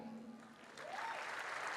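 Audience applause at a school stage event rises after a faint voice at the start and fills the rest of the moment as a steady wash of clapping.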